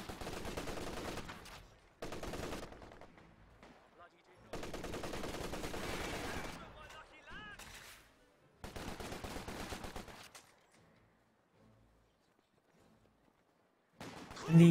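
Bren light machine gun fire in the real-time strategy game Company of Heroes 2, heard as several loud sustained bursts of automatic fire with short gaps between them, followed by a long near-silent stretch and one final sharp burst.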